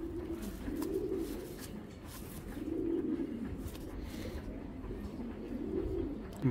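A Jabra-style pigeon coos close by in a repeated, rolling rhythm, with about three throaty coo phrases over a low steady background.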